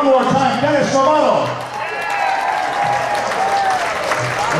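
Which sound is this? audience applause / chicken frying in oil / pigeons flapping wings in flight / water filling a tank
audience applause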